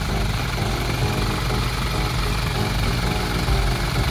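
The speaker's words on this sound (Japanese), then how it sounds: "比較してみると若干やっぱり J05C の方がエンジン音がうるさいのかなというのが車内でも分かるような感じですね" Steady, loud drone of a Hino J05C diesel bus engine heard from inside the bus cabin, a constant low rumble with no speech.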